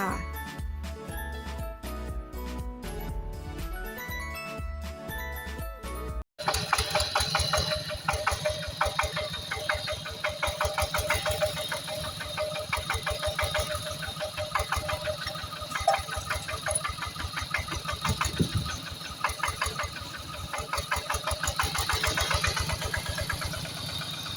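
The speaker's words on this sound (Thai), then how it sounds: "ชุดนี้ก็เป็นเครื่องคูโบต้า ET 95ค่ะ กับโครงบิ๊กจิ๋วค่ะ" A small Kubota ET95 diesel engine on a small farm-vehicle frame runs steadily nearby with a rapid, even chugging throb; a brief burst of rhythmic clatter precedes it, and the engine noise continues loud throughout.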